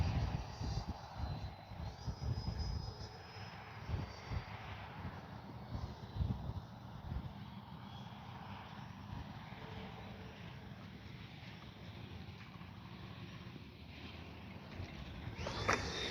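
FMS Integral 80mm electric ducted-fan RC jet coming in slowly to land, a steady whooshing fan whine with a pitch that shifts as it passes at moderate distance, mixed with wind noise.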